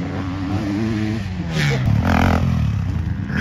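A motocross bike rides at Red Sand MX Park, its engine revving hard with a rising and falling buzz that swells louder partway through and stays close.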